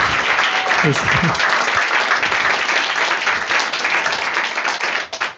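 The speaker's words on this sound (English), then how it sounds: "let's give a big round of applause to Sundaranand Prabhu" A devotional Krishna Katha gathering bursts into a sustained round of audience applause, dense clapping filling the room steadily for several seconds before tapering off, with a brief voice at the start.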